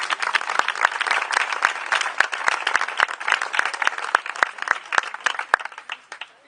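Loud, dense applause from a live audience at a story-reading event, with sharp individual claps standing out over steady clapping for about six seconds before it trails off.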